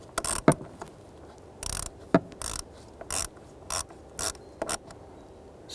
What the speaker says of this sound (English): when tightening this down, once that screw bottoms out, just give it a little bit more